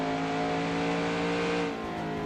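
A 1992 Winston Cup stock car engine howls at Bristol in NASCAR Racing 2003, a steady, loud, droning whine at high revs that eases slightly near the end.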